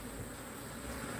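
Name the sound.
honey bees buzzing around hive frames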